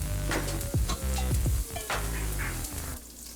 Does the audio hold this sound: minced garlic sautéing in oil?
yes